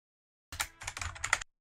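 Quick burst of typing on a loud computer keyboard, a short rapid cluster of clacky keystrokes heard close and alone after a moment of silence.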